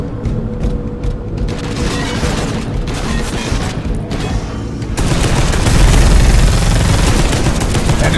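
Heavy stubber machine gun fire in the Space Hulk Deathwing video game makes a loud, dense, continuous roar of gunfire and booms that grows even heavier and thicker partway through.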